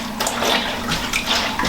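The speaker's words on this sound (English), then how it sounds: "So now all I need to do is wring this out as much as possible." A washed garment is wrung out by hand in a tub, giving close, continuous water sloshing and splashing with small irregular surges.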